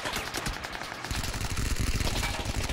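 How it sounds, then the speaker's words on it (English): Rapid bursts of automatic gunfire from the battle royale game PUBG, with players being shot at; dense, repeated rattling volleys grow heavier and louder in the second half, without talk over them. "Oh, they're really shooting at us"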